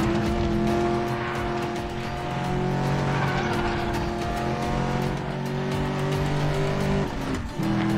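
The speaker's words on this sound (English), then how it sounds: "you have two cars approaching head on" Car engines roar and tires squeal as vehicles approach head on in the Medal of Honor Warfighter video game, loud sustained revving with shifting engine tones and a brief skid near the end.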